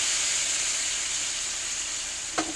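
Mushrooms sizzle in a hot steak pan over medium heat, a steady close frying hiss that fills the whole stretch, with a brief louder crackle near the end.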